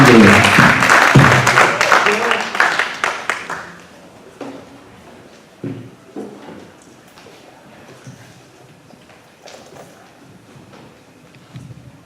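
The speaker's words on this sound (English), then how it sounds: "help me give a round of applause to bring up" Audience applause welcoming performer Jandro to the stage at the EnContrArte show, a full burst of clapping with a few voices that fades after about four seconds, leaving scattered claps and quiet room noise.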